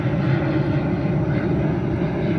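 Airplane passing overhead: a steady, loud, broad engine roar that fills the whole stretch alone, with no talk over it.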